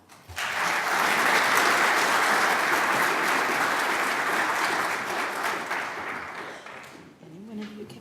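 A panel of reporters is welcomed with steady, loud applause from an audience that fills the room for several seconds, then fades. A voice starts speaking near the end.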